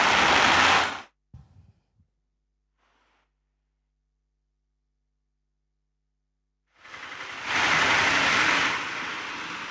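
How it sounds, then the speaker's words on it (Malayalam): Heavy monsoon rain at Chooralmala in Wayanad, amid flash flooding near a Bailey bridge, roars loudly at the start, drops to near silence for several seconds, then returns as a loud, steady downpour. "വയനാട്ടിൽ ചൂരൽമലയിൽ കനത്ത മഴ തുടരുകയാണ്."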